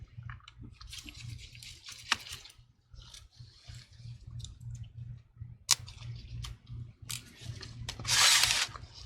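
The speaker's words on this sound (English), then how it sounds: "Let's go ahead and remove the 2 screws and the plastic bracket, which is covering up the LCD hinge." Small Torx T3 screwdriver working out tiny hinge screws on a MacBook Pro during a screen repair, giving faint scattered clicks and scrapes over a low steady hum, with a brief louder rustle near the end.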